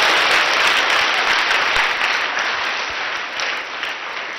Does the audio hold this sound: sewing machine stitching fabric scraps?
no